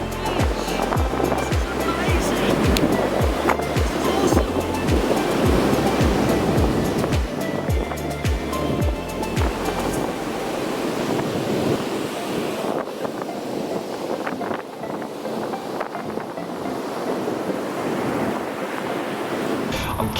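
Ocean waves washing onto a beach at a campsite in Tasmania, a continuous rushing surf with heavy wind buffeting the microphone through the first half, then steadier broadband wash.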